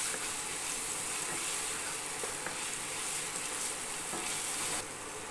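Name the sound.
sautéing vegetable filling in oil for lumpia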